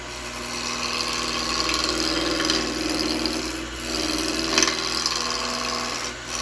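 A steady scraping, rasping noise from a roughing gouge cutting a spindle blank on a spinning lathe continues throughout over a low motor hum, with occasional louder bites of the tool.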